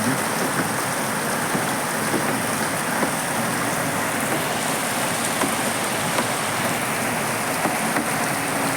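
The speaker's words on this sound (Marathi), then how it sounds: "कंटिन्यू पाऊस आहे बघू शकता म्हणजे सकाळपासून काल रात्रीपासून पाऊसच पाऊस आहे पाऊसच पाऊस आहे" Steady, heavy monsoon rain pours continuously and loudly, a dense unbroken hiss of drops on surfaces with no pauses. No voices are heard.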